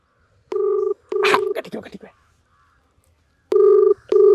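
Telephone keypad tones on a phone call: two steady beeps, a burst of voice, then two more beeps after a short silence, all loud and close.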